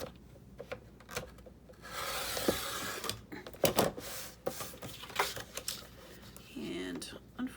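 Paper is cut into 3.5-inch strips for a fall folio project. Dry rasping and scraping strokes come in uneven passes, close and moderately loud, with a faint murmur of voice in the background.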